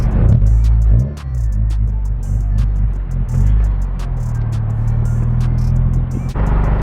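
A Honda Del Sol being driven gives a loud, steady low engine and road drone heard from inside the cabin, with brief shifts in tone.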